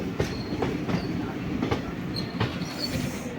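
A passenger train on the Sengottai to Tirunelveli line via Ambasamudram rolls into Tirunelveli Junction. Heard from on board, it gives a steady low rumble with rhythmic clickety-clack wheel beats and faint squeals.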